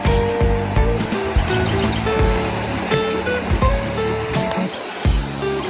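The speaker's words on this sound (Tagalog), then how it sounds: "agos ng ilog" A river at a farm in Iba, Zambales, rushes and gurgles in a steady, loud flow close at hand, with no voices over it.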